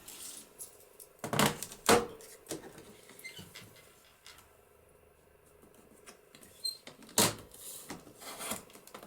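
Paper being trimmed for a papercraft pocket: a few sharp, dry snips and crisp rustles cluster near the start and again toward the end, with quiet stretches between, close and fairly soft.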